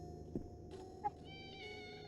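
A cat meows faintly a few times in a detective video game, soft short calls over a quiet background hum.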